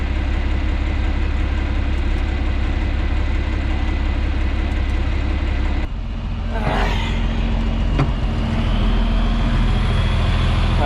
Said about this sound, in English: Hydraulic drive's on.